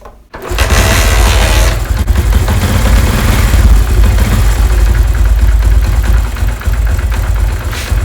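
A Honda CD 70 motorcycle engine catches after a brief start and settles into a loud, steady idle with a low rumbling throb throughout.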